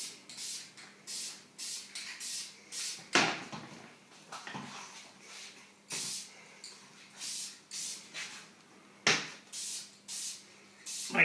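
Aerosol spray paint goes on in light coats over Dalek hemispheres: a close, steady run of short hissing bursts, each a second or less, with brief gaps between.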